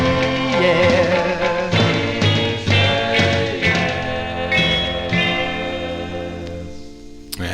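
A 1958 doo-wop record plays loud with no talking: harmonized vocals and a backing band in a warm, reverberant vintage mix that fades slightly near the end.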